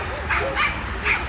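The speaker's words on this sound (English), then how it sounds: "Yo, look at this little dog." A small dog at a Halloween dog parade on Manhattan's Lower East Side gives three quick high yips, close and sharp, over a low background murmur of the crowd.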